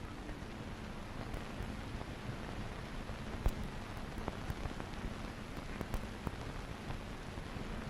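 Steady rain falls on a surface, a dense even hiss with scattered sharper drops, no voices.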